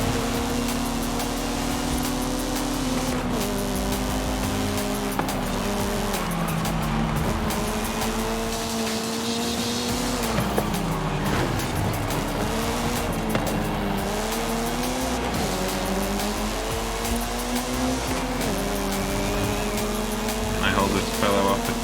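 V8 car engines in Forza Horizon 5 racing, a loud continuous roar whose pitch rises and falls with shifts and acceleration, tires squealing at times, with a voice talking over it.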